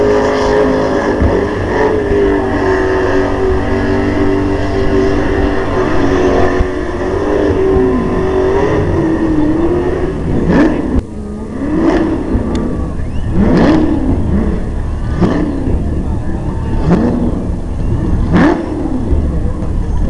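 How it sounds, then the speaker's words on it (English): A car doing a burnout at a show behind spectator barriers, its engine loud and continuous, with repeated revs rising and falling in a steady rhythm through the second half. "The burnouts are on."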